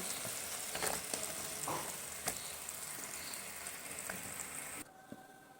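Cauliflower, beans and eggplant frying in a pan, a dense hiss of sizzling oil with a few spatula knocks, close and steady before cutting off abruptly near the end.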